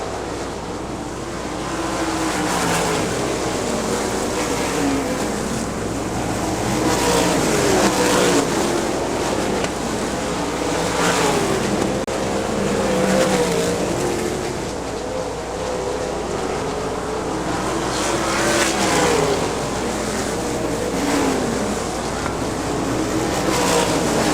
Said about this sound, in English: Jeremy Campbell in the 10 car, sliding underneath Kevin Adkins, picking up that lead.